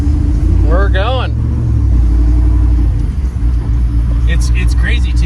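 A 1994 Chevrolet Silverado truck swapped with a 1000hp LT5 engine and 10-speed transmission rumbles with a deep, loud, steady engine drone as it pulls away, heard from inside the cab with a voice talking over it near the start.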